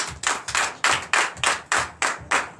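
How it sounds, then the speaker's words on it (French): A church congregation claps in a steady, rhythmic beat during a Sunday worship service in Comè, Benin, with the sharp, close hand claps repeating about three times a second. "Donnez l'acclamation à Seigneur Jésus"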